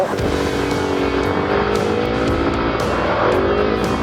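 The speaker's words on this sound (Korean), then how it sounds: "제일 먼저 타볼 거 보이저 125cc 먼저 한번 타보도록 하겠습니다" Voyager 125cc scooter being ridden, its engine droning steadily and close throughout, pitch rising and falling slightly as it accelerates, loud and continuous with no talking.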